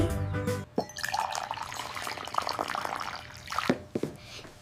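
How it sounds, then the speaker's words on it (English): Water pours from a jolly blue jug on a table in a steady splashing, trickling stream with a few drips, moderately close, with a brief softer pause near the start. "J is for jug, watch the water pour out"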